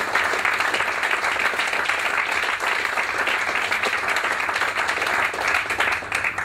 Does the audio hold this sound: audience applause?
yes